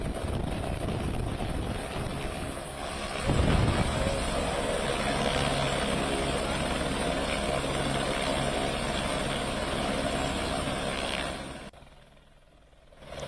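A rescue helicopter at Kedarnath drones steadily with a loud engine and rotor roar that holds for most of the stretch, swelling briefly before fading near the end.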